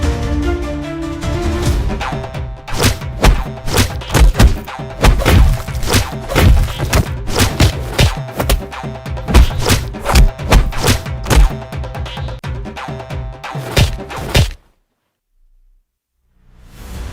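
Repeated heavy thuds and blows land in a rapid, irregular flurry of loud impacts during a fight, with scattered whacks and bangs continuing for about fourteen seconds before cutting to near silence.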